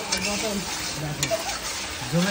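Chicken masala sautés in a pan with a loud, close sizzle and scraping stir strokes. A voice murmurs faintly underneath.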